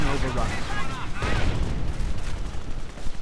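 Cromwell tank and infantry gunfire in a World War II strategy video game, dense overlapping shots and booms with a heavier blast near the middle, all under continuous commentary speech.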